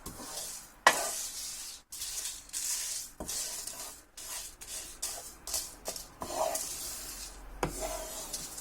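Red chilies and sesame seeds dry-roasting in a pan for pumpkin with sesame seeds, a steady close scrape and rustle of stirring with soft sizzle, punctuated by brief clicks and pauses, no talk.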